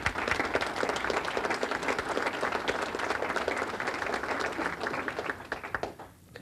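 A crowd applauds steadily at an award ceremony, dense clapping sustained throughout before thinning out and fading at the very end.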